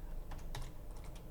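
Quick keystrokes on a computer keyboard while entering a guess in a Nerdle number puzzle, a few separate clicks and a short burst spread over a moment, close and fairly soft.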